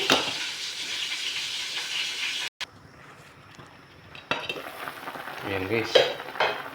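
Fish soup with radish boiling in a pot, giving a steady hissing, bubbling sizzle that cuts out briefly and then returns with some stirring clatter. A voice speaks briefly.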